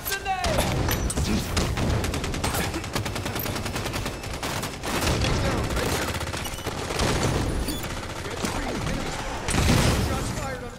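Relentless rapid gunfire from Halo 5 multiplayer rattles continuously in bursts, with booming shots and weapon clatter layered densely throughout.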